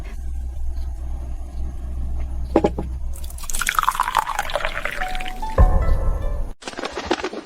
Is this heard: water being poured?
yes